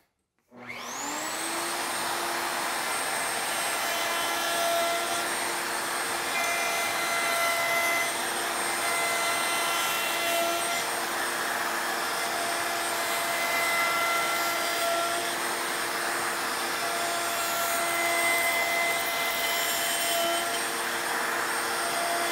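A router with a rabbeting bit spins up sharply from silence and holds a loud, steady high-pitched whine while cutting a rabbet in a wooden picture frame, with no pauses.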